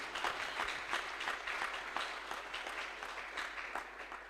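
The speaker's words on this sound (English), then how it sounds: "Let's clap hands for Jesus." A church congregation claps hands continuously, a dense, steady patter of applause heard from some distance, no voices over it.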